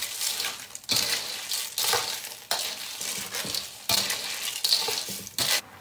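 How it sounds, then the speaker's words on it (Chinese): Spicy river snails stir-fried in a wok with chicken bouillon and chili, a rhythmic series of loud scraping, rattling stirs over a steady sizzle, with no talking. "翻炒均匀"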